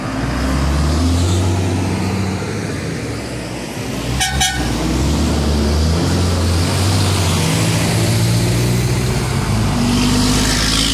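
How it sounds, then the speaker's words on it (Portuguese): Steady roar of busy road traffic on a street in Guarabira, Paraíba, with cars and trucks passing continuously, a brief horn toot mid-way, loud and close throughout with no talk. "Tá bastante movimentado aqui com carros."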